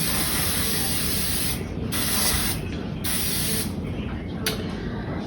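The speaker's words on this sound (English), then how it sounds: "we're gonna spray them with just the vegetable oil" A steady, continuous hiss of vegetable oil cooking spray, close and loud, with brief pauses in intensity as it is sprayed across baking pans.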